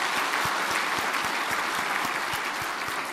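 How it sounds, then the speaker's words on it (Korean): A church congregation claps together in warm sustained applause, a dense even wash of many hands with no talking over it. "우리 수고하신 분들에게 한번 박수 한번 하실까요?"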